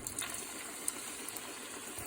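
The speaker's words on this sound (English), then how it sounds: "In order for the rice to cook, I'm gonna add some water." Water pours steadily into a pot of Haitian rice and peas with salt cod and green beans as the rice starts to cook. The flow is continuous and fairly soft, with a few small splashes.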